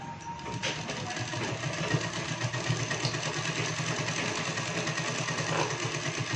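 A sewing machine stitching a women's shirt collar hums with a steady, close mechanical whir, running continuously and evenly without pause.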